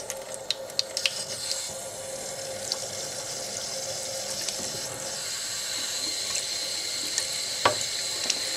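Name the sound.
water running in sink while rinsing makeup brush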